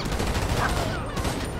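Heavy gang gunfire in the video game GTA 5, a continuous loud barrage of rapid shots filling the whole moment, with no pause.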